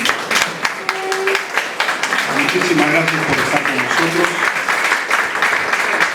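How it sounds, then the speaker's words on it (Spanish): Audience applauding at a ceremony marking the anniversary of Jorge Basadre's birth: sustained, dense clapping from a crowd that continues steadily while someone speaks over it. "para quien pido un fuerte aplauso"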